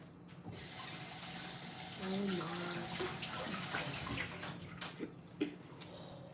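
Running water pours from a tap as a hand is washed in the middle of preparing a fruit bouquet, with a muffled voice briefly heard over the flow.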